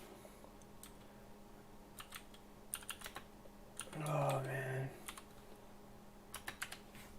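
Faint clicks of typing on a small computer keyboard missing the W, A, S and D keys come in sparse, irregular bursts, with a brief muttered remark in the middle.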